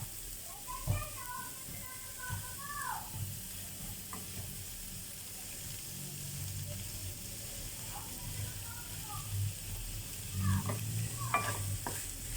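Banana blossom sautéing in a pan for a simple home-cooked ginisang puso ng saging, with a steady low sizzle and occasional stirring scrapes, while a voice talks intermittently over it.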